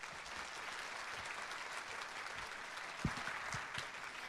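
Audience applause at the Nagoya Grampus 2016 new-lineup presentation event, a steady wash of many hands clapping from a large crowd, with a few louder individual claps standing out near the end.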